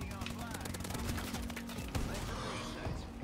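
Rapid automatic fire from the ASM1 submachine gun in Call of Duty Advanced Warfare rattles in quick bursts, fairly faint, with a low hum and sparse in-game sounds underneath.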